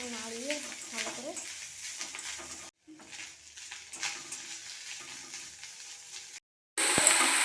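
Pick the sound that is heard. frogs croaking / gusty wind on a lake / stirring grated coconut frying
stirring grated coconut frying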